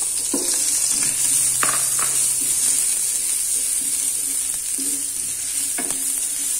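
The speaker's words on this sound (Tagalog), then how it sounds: "Pag mainit na, igisa natin ang luya una." Ginger sautés in hot cooking oil at the start of a sinigang dish, giving a steady close sizzle with a few scraping stirs of the utensil in the pan.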